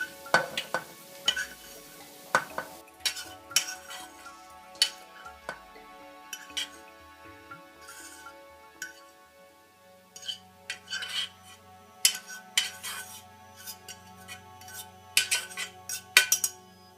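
Ground beef being stirred into a melted mixture in a pan for a Taco Bell chilito, with repeated utensil clinks and scrapes against the pan over a low sizzle, close and fairly loud, with no talking.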